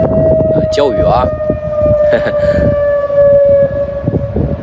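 A Beijing civil defense air raid siren sounds during a morning test on September 21, holding one steady, far-carrying tone while someone talks nearby over it.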